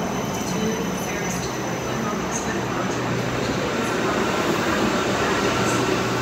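A Scotrail class 334 electric train at Edinburgh Haymarket station, a steady broadband rumble and hum of rolling stock with faint squeaks, while someone speaks over it.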